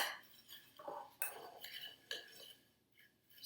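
Blueberry cheesecake ingredients being stirred by hand with a utensil in a bowl, giving scattered scraping clinks and taps of metal against dish, moderately close and uneven in rhythm, with no talking.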